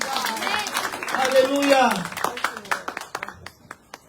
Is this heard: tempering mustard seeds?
no